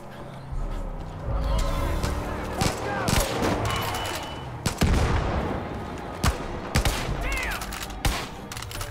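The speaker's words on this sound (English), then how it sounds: "Yeah, sniper shot that close" Sniper rifle shots and scattered gunfire in the Far Cry 5 open-world shooter, sharp isolated cracks ringing out amid a busy mix of other battle noise, with people talking over the action.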